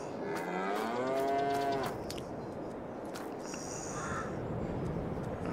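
Angus cattle in a feedlot in Farming Simulator 22 on the Elk Mountain map give a drawn-out moo, followed by softer lowing over a constant hum of ambient farm noise.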